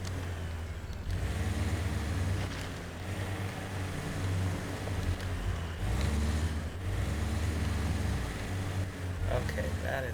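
Off-road vehicle in the Expeditions driving game grinds along a rocky trail in all-wheel drive, a steady low engine rumble with intermittent surges and bumps, moderately loud.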